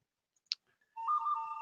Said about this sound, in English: And there goes my phone again.